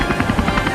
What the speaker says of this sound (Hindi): अबे वो पायलट वहाँ नीचे लेकर चल हेलीकॉप्टर।